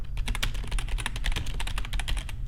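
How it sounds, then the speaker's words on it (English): Rapid, steady typing on a computer keyboard, close and clear, with dense key clicks and no talking. "And Jade, I am just typing Easy Digital Downloads in the chat there for you."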